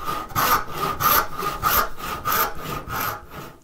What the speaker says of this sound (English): I flatten it out and cut it all the way down to the line.